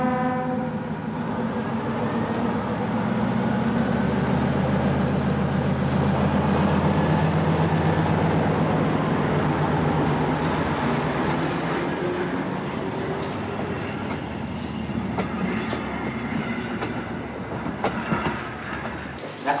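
A train departs along a railway, a loud rumbling run with rolling wheel noise and clatter that stays steady and close, then eases slightly toward the end.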